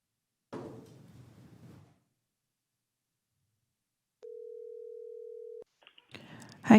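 A telephone line tone hums at a steady pitch for just over a second while a caller is transferred into a county board of supervisors meeting, with brief rustling and voices before and after it.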